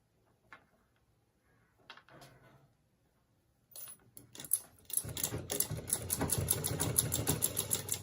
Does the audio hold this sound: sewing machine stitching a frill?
yes